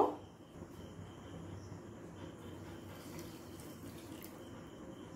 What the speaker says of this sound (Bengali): 1 কাপ চিনিতে ½ কাপ জল দেব।